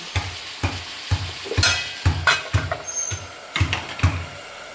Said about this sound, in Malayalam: നന്നായി വെന്തതിന് ശേഷം ഇതിലേക്ക് മഞ്ഞൾപ്പൊടിയും കുരുമുളക് പൊടിയും ആഡ് ചെയ്തിട്ട് നന്നായിട്ട് വേവിച്ചെത്തുക